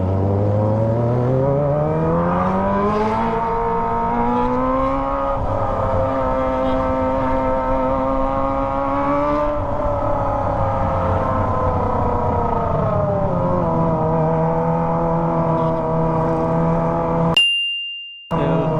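A Kawasaki ZX25R motorcycle fitted with a Toce exhaust, revved hard and held near its limit in long rising and falling sweeps, loud and close, ending abruptly.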